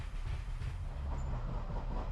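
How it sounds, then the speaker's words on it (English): A Northern Class 142 Pacer train rumbles along the rails near the Marple Viaduct, a steady low drone with faint rhythmic clatter, close and unbroken. "the train passes over the Marple Viaduct"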